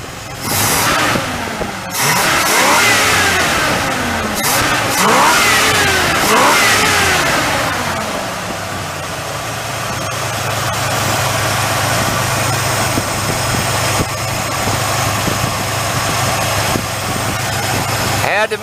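A Ford 302 V8 with a Holley 500 carburetor and automatic transmission revs repeatedly in loud bursts, then settles into a steady rough idle, with people talking intermittently over it.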